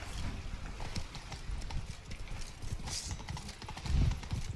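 Horse hooves clop steadily at a walking pace in the video game Witcher 3: Blood and Wine, fairly close, with a soft snort near the end.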